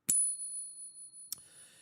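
Silver coin struck with a Pocket Pinger tester, giving a sharp ping that rings on as a clear sustained tone, then a second tap, close and fairly quiet.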